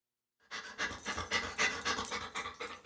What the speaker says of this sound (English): To some, this might sound like a typical family dog.